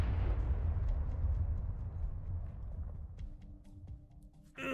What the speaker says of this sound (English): An explosion of this scale always comes in waves.